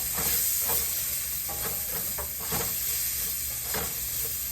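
Oyster mushrooms sprinkled with salt are stirred in a hot pan, giving a steady close sizzle and hiss with intermittent scraping stirs throughout, no talking.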